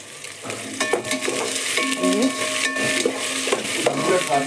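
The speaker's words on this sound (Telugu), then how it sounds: "ఈ క్యారెట్ మొత్తము. ఇవి కొంచెం ఫ్రై కావాలి" Carrots and onion fry in a pan for bagara rice while a spoon stirs them, bright scraping and tapping strokes over a steady sizzle, close and fairly loud.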